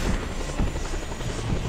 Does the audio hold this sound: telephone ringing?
no